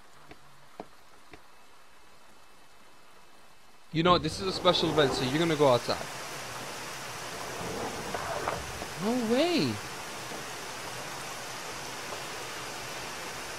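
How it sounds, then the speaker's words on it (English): Steady rain falls in the video game Yume Nikki, a broad even wash of hiss that begins suddenly and continues throughout, with a person talking excitedly over it. "Oh, it's raining?"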